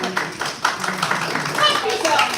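Audience applause fills a convention panel room, a dense, steady patter of many hands clapping for a couple of seconds with voices mixed in underneath.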